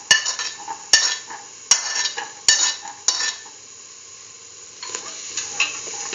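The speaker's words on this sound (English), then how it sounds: "Mix in the green peas with the rest of the ingredients." A spoon stirs green peas into a chayote stew in a pot, with close scraping strokes and metallic clinks landing roughly every second, then softer, slower stirring under a faint sizzle.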